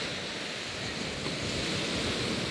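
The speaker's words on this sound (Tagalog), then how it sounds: "Grabe yung alon." Ocean waves wash onto a beach in a continuous loud roar of surf, a dense, even rush of water with a windy hiss and no talking.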